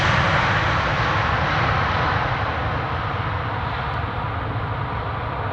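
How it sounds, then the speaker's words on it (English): A Cargolux Boeing 747 lands at Amsterdam Schiphol using idle reverse thrust, producing a steady broad jet-engine roar that stays loud and constant before easing slightly. No voices are heard. "It sounds like an idle reverse landing here."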